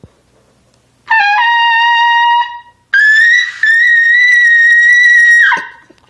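A trumpet sounds two sustained, bright notes played by a beginner-level player pushing about half of full air, the second longer and louder than the first, each ending with a fading release, with no talk over them.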